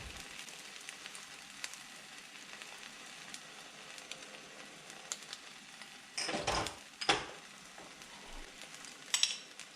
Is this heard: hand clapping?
no